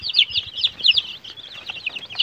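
Rapid high-pitched peeping and clucking from young chickens, continuous and close, with overlapping chirps and no talking.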